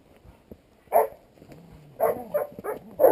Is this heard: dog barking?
yes